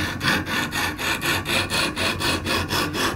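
An extra coarse stone on a Lansky knife sharpener rasps along a knife blade in regular back-and-forth strokes, about four per second, loud and close, with no other sounds.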